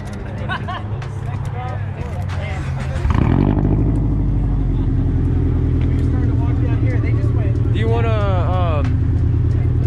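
At an outdoor local car meet, a car engine suddenly starts and revs loudly, settling into a deep rumbling idle, with people chatting nearby before and during.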